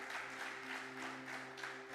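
Congregation applauding at a Sunday church service, a steady wash of many hands clapping at moderate level, with a sustained tonal hum running beneath it.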